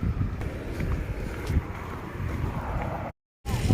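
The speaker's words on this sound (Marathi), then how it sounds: "इतकं जास्तीचं वारं सुटलंय ना तर काही विचारूच नका जोरजोरात वाऱ्याचा भरकंड्याचा आवाज देखील येत असणार आहे" Strong wind gusting across an open garlic field, a steady loud rush buffeting the microphone throughout with a brief dropout near the end.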